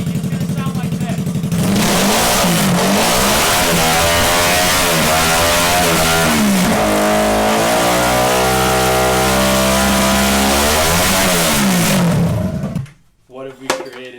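A go-kart powered by a Yamaha R3 motorcycle engine, running without exhaust, revs hard, raw and loud, rising and falling in pitch repeatedly, harsh and unmuffled, then cuts off abruptly with a few rattles.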